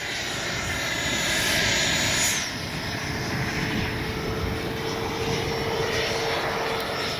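FMS 70mm F-18 V2 RC jet flying past, a steady airborne whine that swells as it comes near and then fades slightly as it moves away, heard outdoors with no talking.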